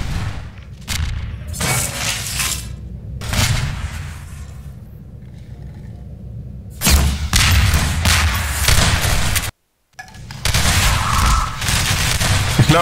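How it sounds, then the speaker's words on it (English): Gunfire in the Half-Life 2 Deathmatch video game, loud rapid bursts of shots and booms packed densely across the clip, broken by a short pause, then firing resumes at full intensity. "Look at how much I shot him."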